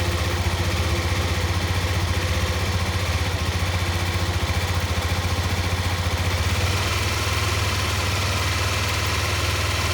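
A motorcycle engine runs steadily with the clutch held in the friction zone and no throttle applied, giving a loud, continuous low rumble that stays even for the whole stretch with no talk.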